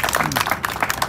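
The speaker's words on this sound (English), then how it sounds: "I ask you to join me in an applause" Audience clapping in a Dubai shopping mall at a radio-controlled touring car event, a dense, steady patter of many hands close by, lasting about a second.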